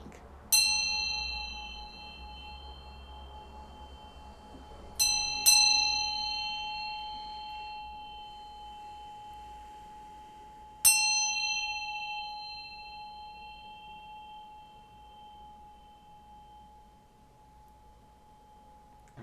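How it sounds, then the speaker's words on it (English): A bell is struck four times, with two strikes close together in the middle, and each bright clang rings on with a long, shimmering tone that slowly decays in a quiet room. "I'm going to ring this bell to bring you some good vibes"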